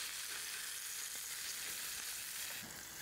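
The fat edge of a rump steak sears on a grill with a faint, steady hiss of fat sizzling, alone and unbroken for a few seconds.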